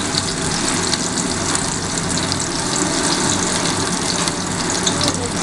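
Chopped onions sizzle hard in hot oil for a Bengali home-style khichuri, a loud, dense, continuous crackle heard close up with no pauses.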